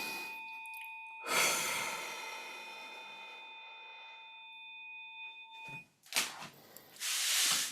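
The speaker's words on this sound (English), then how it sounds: "so take a breath" A deep breath during a calming grounding exercise: a long, airy inhale, then a pause and a softer exhale, set against a faint sustained tone.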